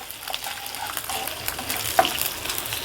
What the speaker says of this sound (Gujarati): હવે એની થોડીક વાર સાતળશું